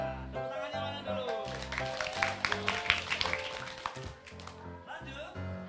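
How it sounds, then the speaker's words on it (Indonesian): Children at a storytelling competition final clap rhythmically in a brief burst, mixed with lively voices and chanting that run through the whole stretch. "Tepuk tangannya mana dulu?"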